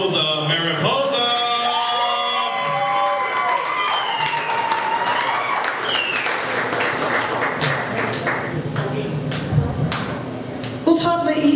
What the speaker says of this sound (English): Give a big round of applause for Rosa Mariposa!